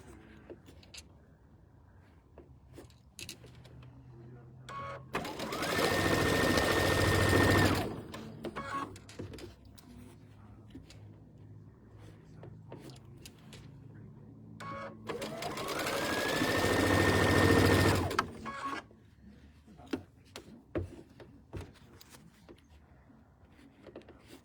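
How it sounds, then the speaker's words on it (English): Sewing machine stitching quilt blocks, two separate runs of steady fast whirring of a few seconds each, with quieter handling sounds and a person talking between them. "Okay, so I just stitched both of these blocks"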